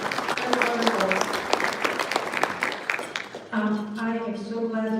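Audience applause at a county economic development luncheon, a crowd clapping for several seconds before a voice starts speaking over the last of it.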